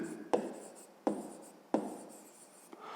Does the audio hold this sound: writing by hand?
yes